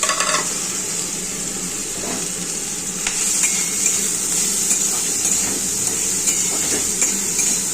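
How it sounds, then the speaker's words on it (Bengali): Pointed gourd seeds frying in hot oil with fennel seeds, a continuous bright sizzle close by, punctuated by scraping stirs and occasional metallic clinks against the pan. "তেল গরম করে মৌরি ফোড়ন দিয়ে দিয়েছি। পটলের বীজগুলো ছেড়ে দিলাম।"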